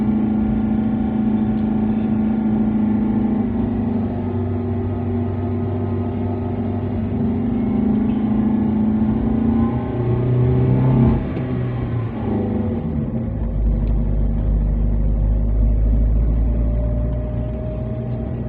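A car crawls up a steep, slippery mountain road toward Kawah Ijen in first gear, its engine droning steadily and loudly with a low rumble that deepens toward the end, no voices heard.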